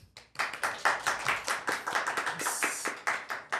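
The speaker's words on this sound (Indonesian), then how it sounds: "Boleh minta tepuk tangan untuk Rian?" Brisk clapping from a small group in a podcast studio, steady and close, lasting throughout with no talking.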